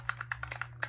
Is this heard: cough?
no